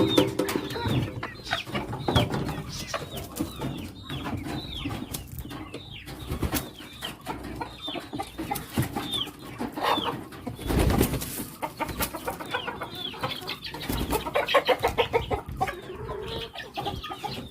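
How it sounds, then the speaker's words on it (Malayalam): Native country chickens, a rooster among a few hens, cluck and murmur close by in a steady, busy stream of calls, with occasional louder squawks and some rustling throughout. "ഇതൊക്കെയാണ് കോഴികൾ ഈ ഒരു പൂവൻ നാടനാണ് പിന്നെ ഈ മുള്ളൻ നാടന പിന്നെ ഈ രണ്ട് പെടക്കോഴി"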